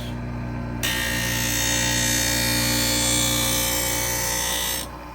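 A Wissota 911 skate sharpener with a 1/2 inch radius of hollow grinds a carbon steel blade at an ice rink. A single abrasive pass rasps loudly for about four seconds over a constant motor hum, with no voices.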